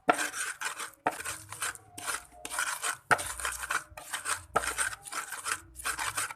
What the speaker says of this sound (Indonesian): Selanjutnya, kita ulek-ulek semua bumbunya biar halus ya.